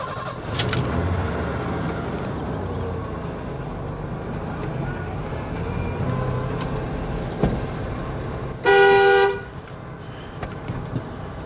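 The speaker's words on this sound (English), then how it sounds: "Well, the horn works" A 1991 Ford F-150 pickup's horn lets out one loud, short honk near the end, cutting over the steady rumble of the truck driving along.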